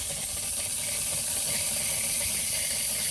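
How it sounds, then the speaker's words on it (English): Water flows out of a garden soaker hose fed through a pressure regulator, making a steady, even hiss with faint trickling that continues unbroken, close by. "Look at that water coming out."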